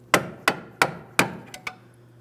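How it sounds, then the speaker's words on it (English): A hammer strikes a pry bar to tap a locking washer off an inner tie rod on a 2003-2008 Toyota Matrix: six sharp metallic taps at an uneven pace, the last two lighter, up close with no talk. "we're going to use a pry bar and a hammer, and we'll lightly tap that locking washer out of place"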